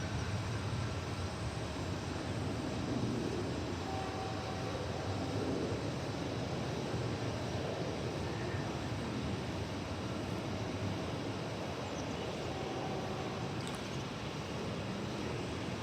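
An American Airlines passenger jet at DFW Airport sends a broad, steady rumble and roar across the field, distant and even throughout with no talk over it.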